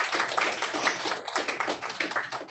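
A short burst of clapping from a small audience at an academic informational session, a brisk patter of hands that fills the moment and fades near the end.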